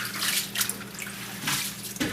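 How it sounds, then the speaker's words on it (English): Soaked noodles and water poured from a pot into a strainer for Hmong egg rolls, a steady rushing splash of water that holds for about two seconds, close and fairly loud, with no talking. "So I'll pour it into the strainer."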